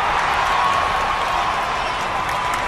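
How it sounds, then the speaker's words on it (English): Yankee fans cheering in the baseball game Action PC Baseball, a steady loud crowd roar with applause that holds evenly throughout. "Yankee fans cheer that."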